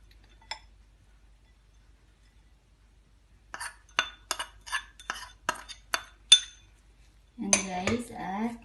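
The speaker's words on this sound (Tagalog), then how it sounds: "ihalo lang natin ng mabuti" Shrimp dumpling filling with cornstarch and spring onion being mixed in a bowl, with a sequence of light utensil clinks and taps at a steady rhythm, followed by a louder burst of scraping at the end.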